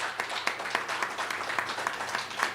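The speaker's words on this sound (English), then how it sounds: "Give a round of applause, ladies and gents." A press-conference audience applauds a light heavyweight fighter: a modest, steady patter of many hands clapping at a middle distance, fairly faint, with no voices over it.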